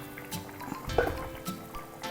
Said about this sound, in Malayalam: നന്നായി തിളയ്ക്കുന്നുണ്ട്